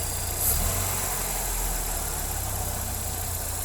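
A Hyundai Matrix engine idles steadily up close, a low continuous hum with a faint rise near the start before settling as the revs drop.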